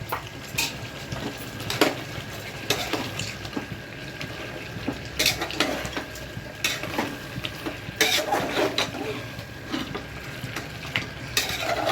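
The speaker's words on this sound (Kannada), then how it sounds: "ಈರುಳ್ಳಿ ಪೇಸ್ಟ್ ಹಾಕಿ ಸೇಮ್ ಅವಾಗ ಹೆಂಗೆ ರೊಟೇಟ್ ಮಾಡಿದ್ವಿ ಅದೇ ಥರನೇ ರೊಟೇಟ್ ಮಾಡಬೇಕು" Onion paste being stirred into a pot of mutton curry, with steady scraping and stirring strokes over a soft sizzle and occasional louder clinks of a utensil against the pot, close and without talk.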